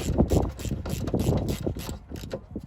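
Socket ratchet tightening a brake caliper bolt on a car during a rear caliper rebuild, giving a quick run of close clicking bursts with dense mechanical rattle, loud and near, with no talk.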